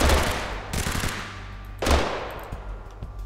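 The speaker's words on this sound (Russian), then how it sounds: "В меня уже стреляет, ёбаный насосик" Pump shotgun blasts in Totally Accurate Battlegrounds, two loud sharp shots about a second apart with lingering tails and faint background game noise.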